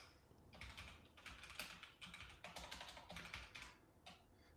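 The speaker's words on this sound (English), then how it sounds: "It sounds like a big keyboard actually." Continuous typing on a computer keyboard, rapid irregular clicks and clacks close up, with a brief pause near the end.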